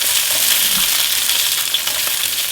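Strips of chile (rajas) fry in hot oil with a constant loud, hissing sizzle and scattered small pops and crackles, with no talking.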